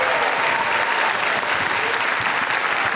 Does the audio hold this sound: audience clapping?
yes